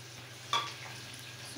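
Okra sizzles faintly in a hot pan with a low steady hiss over background hum, and a brief louder crackle comes near the start.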